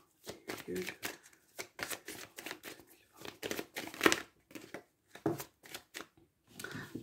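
Tarot cards shuffled by hand for a new moon reading, with soft papery flicks and riffles in short bursts, close by and mostly under a person talking.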